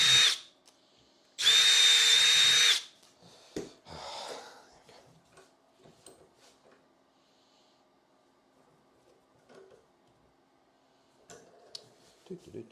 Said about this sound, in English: that's where we're going to countersink from the outside